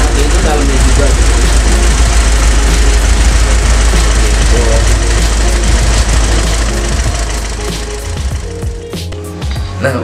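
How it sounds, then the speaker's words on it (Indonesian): Worn, noisy car engine running loud and continuous with a rough mechanical clatter, easing slightly near the end. "mesinnya makin berisik aja suaranya"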